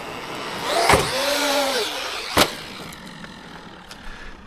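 A Traxxas Maxx V2 RC truck drives past, its electric motor whining up and falling off, with a couple of sharp knocks from impacts or bumps and quieter rolling noise afterward, no talk.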